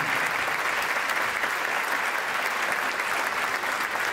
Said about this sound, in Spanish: Un aplauso gracias, para los chicos